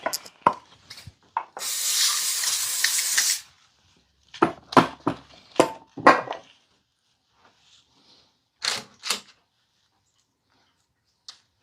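Cooking spray hisses from a can in one steady burst of about a second and a half, close by, while baking oatmeal raisin cookies on a cold winter night, followed by scattered kitchen clatter and handling noises.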